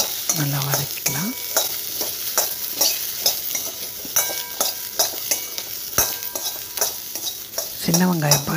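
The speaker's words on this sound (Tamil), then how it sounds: "வெங்காயம், பூண்டு நல்லா வதக்கிக்கலாம்." Onion and garlic, a mix of small shallots and large onions, sautéing in a pan, with a continuous close sizzle, repeated spoon strokes and metal clinks, and faint background voices now and then.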